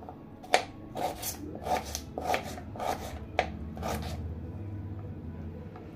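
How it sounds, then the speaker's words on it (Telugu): A knife chops food into small pieces on a board while chicken fry is being prepared, with about seven soft, regular strokes roughly half a second apart before falling quiet. "ఇదిగోండి, చిన్న చిన్నగా కట్ చేసేసుకున్నాను"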